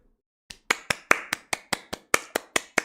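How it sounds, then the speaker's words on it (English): A single person claps alone at a steady, even rhythm, about a dozen sharp, close hand claps in quick succession. "I clap"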